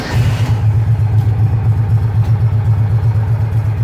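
An American Landmaster Landstar Cruiser UTV engine catches with a short start-up burst, then settles into a steady, loud, even idle that runs on close by without any talk.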